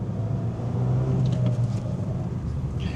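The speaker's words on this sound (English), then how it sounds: "as soon as you pull away in it, you can hear the little rumble from the exhaust behind you." Abarth 595 pulling away with a low exhaust rumble from behind, moderately quiet and steady under cabin ambience.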